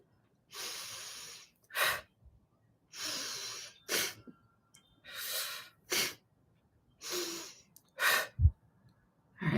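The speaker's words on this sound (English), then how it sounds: "The inhale is passive and relaxed, and the exhale is a short burst of energy, engaging our upper abdomen." Kapalbhati breath of fire: forceful breathing in a rhythm of long hissing breaths, each paired with a short, sharp nasal burst, repeated about five times at close range with silence between them and no talk.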